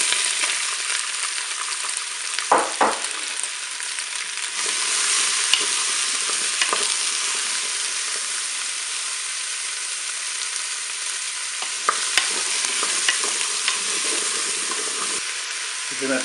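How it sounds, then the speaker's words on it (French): Zucchini pieces sizzling with garlic in a Cookeo pot, a steady bright frying hiss with a few stirring scrapes and knocks, close and continuous throughout. "Je vais ajouter les morceaux de courgettes"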